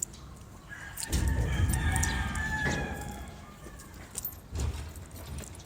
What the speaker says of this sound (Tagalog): mga manok na dito mga idol